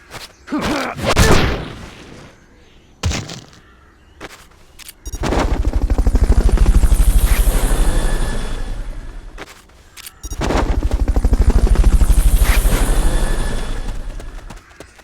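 A helicopter in the video game Metal Gear Solid Peace Walker: a few sharp bangs open, then a loud rhythmic rotor chop swells and fades in two long passes.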